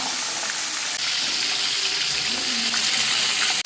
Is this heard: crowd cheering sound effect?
no